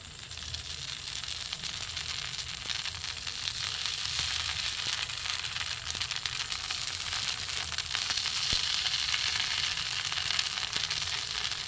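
Haat jhara pitha batter fries in oil, a dense, unbroken crackling sizzle that holds at an even, fairly loud level throughout.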